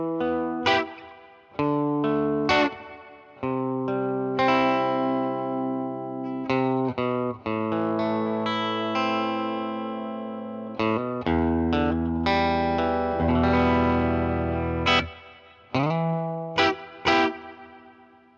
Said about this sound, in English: And now with the reverb pedal engaged.